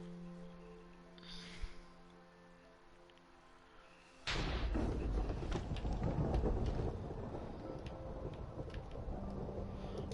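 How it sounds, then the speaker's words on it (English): Thunder crashes in a video game storm, a sudden loud rumbling roll that starts partway through after a quieter stretch, then settles into a steady stormy wash with rain-like hiss. "How the hell is there a thunderstorm?"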